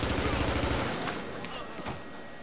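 Dense automatic gunfire in The Division during a Dark Zone firefight, a continuous loud rattle of shots that eases off partway through, with a voice over it.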